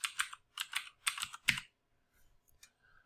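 Quick bursts of keystrokes on a computer keyboard, four short clusters of close, crisp clicking in the first second and a half, then a few faint isolated taps in near silence.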